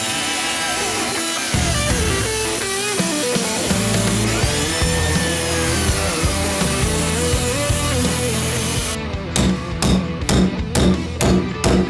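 A power saw cutting through a plywood floor, a loud sustained grinding whine with shifting pitch for several seconds, then a series of short, evenly spaced bursts as the blade bites and lifts repeatedly.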